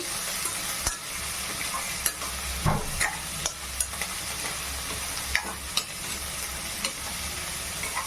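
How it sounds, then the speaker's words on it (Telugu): Onions frying in a pan and being stirred for paneer butter masala, a steady close sizzle broken by repeated scraping strokes and light spoon taps against the pan, with no talking. "ఆనియన్స్ని కాసేపు అయితే ఇట్లా కలపండి."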